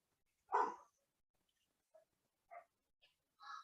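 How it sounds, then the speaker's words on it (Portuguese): A pet dog barks at home during a live online talk, one louder bark followed by several short, fainter yips and whines in a quiet room. "A minha cachorra resolveu participar"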